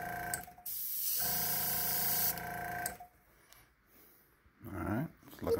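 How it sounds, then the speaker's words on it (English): An Iwata airbrush sprays paint onto a turkey decoy in a loud, steady hiss lasting under two seconds. Quieter intermittent hissing and shuffling follow, and a dog growls and whimpers nearby. "we're airbrushing our decoy. Making it a little bit more spiffy"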